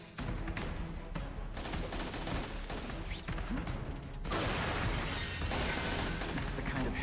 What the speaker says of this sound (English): That's the kind of heavy artillery you see in a combat zone.